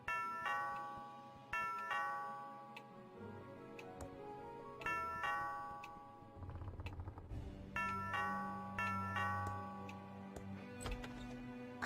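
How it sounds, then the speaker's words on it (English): Chiming doorbell in the point-and-click video game Thimbleweed Park, a repeating multi-tone ding-dong melody rung several times in succession over a low ambient music bed, clear and close. "That sounds like the doorbell."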